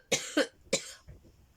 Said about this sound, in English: excuse me, coughing again